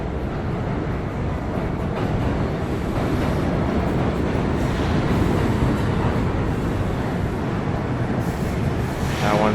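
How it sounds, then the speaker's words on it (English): An NYC subway train rumbles in on the far track, a loud continuous roar of wheels and rails building steadily, with a brief squeal near the end. "Sounds like there's a subway coming on the other side."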